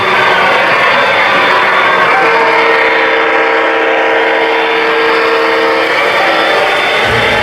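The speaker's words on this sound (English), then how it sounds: "Oh, another holiday train going by." A Lionel model holiday train runs on a Long Island holiday display layout, making a loud, steady rolling rumble close by with a faint sustained whistle-like tone in the middle.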